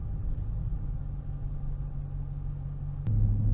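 A 2022 Dodge Challenger R/T Scat Pack with its 392 V8 idles in a steady, deep, close rumble, and near the end the engine note rises abruptly and grows louder.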